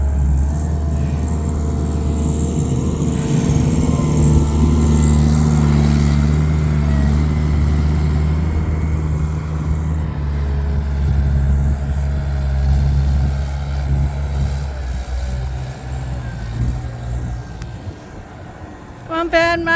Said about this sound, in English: We'll see if he can get through the snow with the skid steer.